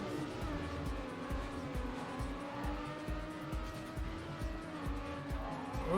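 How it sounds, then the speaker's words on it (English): Racing car in TrackMania Nations Forever, engine droning steadily throughout with tire noise suggesting a skid, loud and continuous with no breaks. "we want to pitch it around and then skid"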